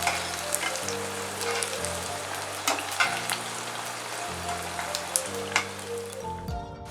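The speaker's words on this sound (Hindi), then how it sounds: "स्टीम होने के बाद मोमोज बहुत अच्छी तरह से फ्राई होते हैं।" Steamed momos frying in a pan crackle and sizzle continuously at close range, with light spatters and a faint musical drone underneath.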